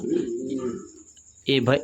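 A pigeon coos nearby, first a long low rolling call that fades, then a second louder burst of throaty cooing after a short pause.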